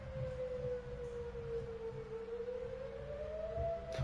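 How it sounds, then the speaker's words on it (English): An outdoor warning siren wails continuously at a distance, its long held tone gradually bending upward near the end, over low ambient rumble with no talking. "Why is there a siren?"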